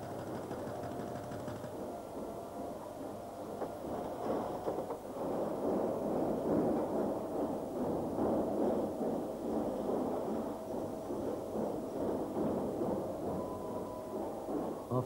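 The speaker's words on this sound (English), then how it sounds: "This is the primary crusher. It's a cone crusher, and it reduces the ore to the size of small boulders." A primary cone crusher at the Pine Point mine breaks ore into small boulder-sized lumps, giving a loud, steady industrial rumble and grinding roar that runs without a break.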